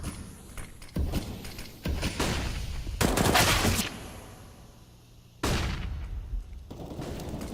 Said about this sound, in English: First kill was Mantu's. Now Searson trying to hold on. It's Alexi B going down.